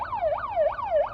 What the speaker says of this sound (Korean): 지금 앰뷸런스가 제 앞으로 들어왔어요.